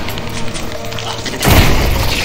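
Shotgun fired in the VR zombie shooter Propagation VR: one loud, sudden blast with a broad burst and a lingering rumbling tail, breaking in after a stretch of quieter game ambience.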